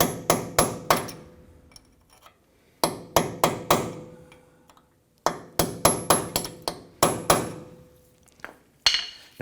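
Metal hammer blows strike a punch to open the staked dimples on a front CV axle nut of a 2017-2020 Hyundai Elantra 2.0L, landing as close, sharp, ringing strikes in quick bursts of four or five, with brief pauses between bursts.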